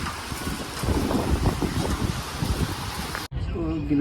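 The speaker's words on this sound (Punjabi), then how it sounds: "ਨਾਲੇ ਹਵਾ ਛੱਡੀ ਬੈਠਾ ਇੰਨੀ ਤੇਜ਼" Strong wind buffets the microphone in loud, gusty bursts over ripe wheat fields, with faint talk mixed in before a brief cut.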